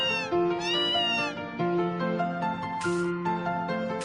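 A cat in Harvest Moon: A Wonderful Life Special Edition on PS5 gives a pair of drawn-out meows up front, set over continuous tuneful background music that carries on alone afterward.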